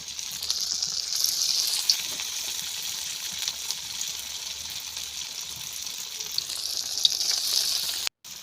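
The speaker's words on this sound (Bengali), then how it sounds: "তো এখন আমি এইভাবে করে তেলের মধ্যে দিয়ে দিব।" Raw corn fritters frying in hot oil, a steady, close hiss and crackle of sizzling that holds throughout with small pops, cutting out briefly near the end, no voices.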